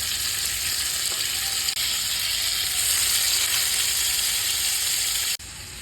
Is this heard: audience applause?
no